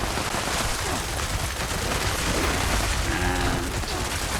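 A spun-up explosive heavy gun fires a dense stream of bullets in the Fallout 76 video game, a loud continuous roar of rapid shots and blasts filling the whole clip.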